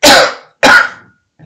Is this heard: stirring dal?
no